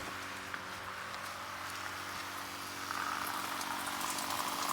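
A Camplux portable water heater kicks on while a shower runs, giving a steady low hum and a rushing water hiss that grows slightly louder partway through, faint and continuous with no talk.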